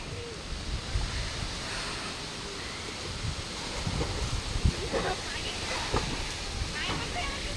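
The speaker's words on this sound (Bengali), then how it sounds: "দেখো চারিদিকটা পুরো মেঘলা হয়ে রয়েছে, আর হাওয়া দিচ্ছে কি" Wind blows across a village pond under a cloudy sky ahead of a cyclone storm, a continuous broadband rush with gusty swells and faint rustling.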